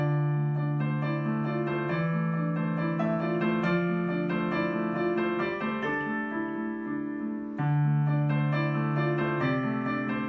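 Piano playing part 4 of a piece, a variation of an earlier section: steady, sustained chords and melody played continuously with no pause, a brief lift near the end before resuming.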